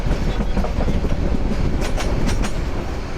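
Steady, loud rolling of a train on the Dhaka–Chattogram line, with a continuous low rumble and a few sharp clickety-clack beats from the wheels passing rail joints near the end, no talking.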